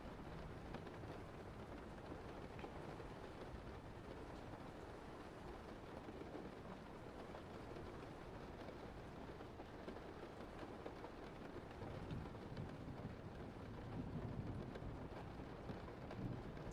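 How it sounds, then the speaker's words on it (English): Steady rain falling outdoors, a constant soft hiss and patter that stays faint and even throughout, with no clear thunder standing out and no voices. "I love the rain."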